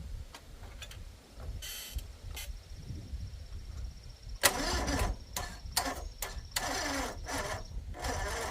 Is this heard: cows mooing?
no